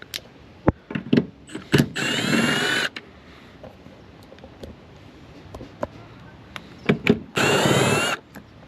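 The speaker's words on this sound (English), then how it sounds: "we're gonna start off by removing these 3 bolts right here." Power drill on 5/16 bolts of a 1999 Honda CR-V, two short loud whirring bursts separated by quiet stretches filled with sharp metallic clicks and clinks of tools and parts being handled nearby.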